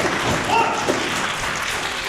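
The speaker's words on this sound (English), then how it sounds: "And the crowd appreciative of both men's efforts." A crowd at a live wrestling show applauds steadily, a dense wash of clapping and murmuring that holds at an even level throughout.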